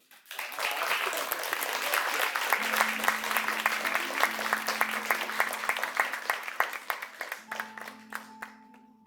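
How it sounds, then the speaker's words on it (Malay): Audience clapping at a Malay poetry and cultural gathering for Hari Mastera, a steady, moderately distant round of many hands with a faint tone lingering underneath, gradually thinning near the end. "Berikan tepukan yang gemuruh sekali lagi."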